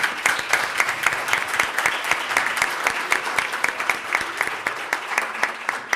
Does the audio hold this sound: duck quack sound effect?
no